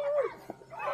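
Dog whimpering and whining at an outdoor resort outing, a couple of rising and falling high whines with a soft yelp between, close and fairly quiet, with no talk.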